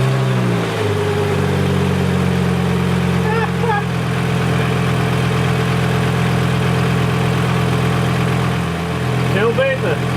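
A Volvo 850 engine idles steadily up close with its old timing belt idler and tensioner pulleys fitted, a low continuous drone with a slight rev near the start and voices speaking over it.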